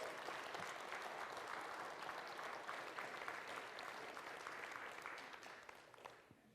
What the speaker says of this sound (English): So I think we should give our president a huge round of applause.